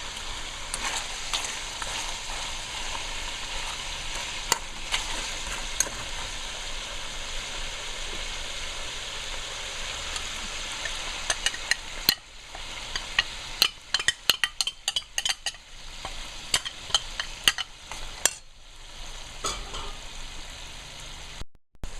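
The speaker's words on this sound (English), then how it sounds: "It's frying down now" Steady frying sizzle of duck meat and masala in oil in a pan with a low background hum, later broken by irregular clicks and scraping taps as it is stirred.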